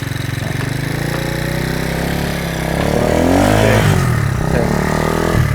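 A motorcycle used in a beginner's riding lesson runs close by, a rough, steady idle that swells into louder revving midway, then settles slightly while still running hard.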